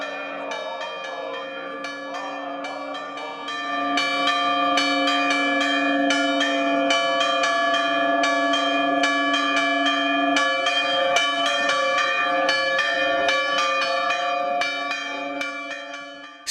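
Church bells from a carved stone bell tower of a single-aisle Byzantine basilica ring out in a dense, sustained peal, with a quieter start and steady loud ringing through most of the span, no voices.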